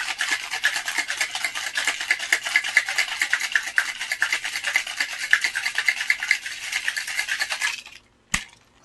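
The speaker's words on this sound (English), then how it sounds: "we're going to give this one a shake" A Tom Collins cocktail is shaken hard in a cocktail shaker, giving a steady, dense rattling of ice for about eight seconds, then a brief pause and one sharp knock as the shaker is opened.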